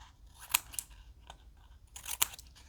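Scissors snip through paper while a paper sunflower is being folded and trimmed, two sharp crisp cuts standing out among softer rustles, close and fairly quiet with no talking.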